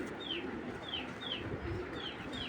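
Racing pigeons in a loft give a run of soft, repeated coos with faint chirps above, steady and close, with no voices.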